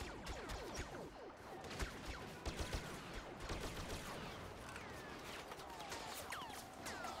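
A soldier shooting in the Star Wars Battlefront video game: dense, continuous battle fire and scattered blaster shots sound fairly distant and low in level, with no talking.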